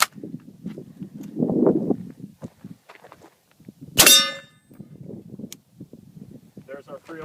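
A standard .308 (7.62x51) rifle round strikes a steel armor plate at 25 yards with one sharp, loud metallic clang that rings briefly, set among low murmuring voices and shuffling before and after.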